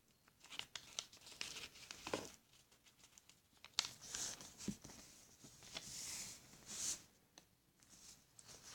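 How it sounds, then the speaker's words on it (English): A sheet of paper is folded into a paper airplane, producing soft, close crinkles, rustles and creasing swipes in irregular bursts, quiet and with no speech. "And then you take here, and then fold it down to meet the bottom"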